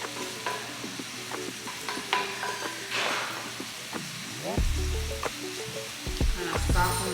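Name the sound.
apples softening and sizzling in a pan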